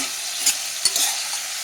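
Mutton and bell peppers frying in a pan with pepper powder, a steady bright sizzle broken by a few soft stirring scrapes, close and alone.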